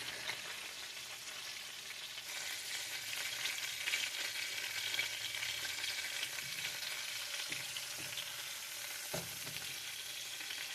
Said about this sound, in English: Leave it sit and fry low and slow until you see that brown edge.